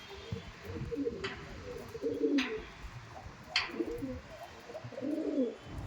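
Andhra pigeons coo in a loft, with soft, low, repeated calls rolling at a moderate distance and a faint background hum between them.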